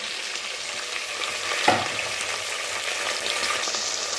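Dal, curry leaves and tomato pieces cook in a frying pan with an even, quiet sizzle throughout, marked by one brief spoon knock near the middle as the mixture is stirred; close, with no voices.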